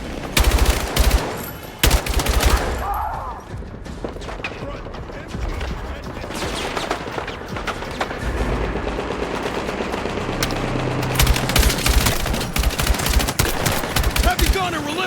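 Gunfire during a night raid in the Battlefield 6 campaign: sustained machine-gun bursts and scattered rifle shots fire close and loud for the whole stretch. Shouted voices break in over the shooting.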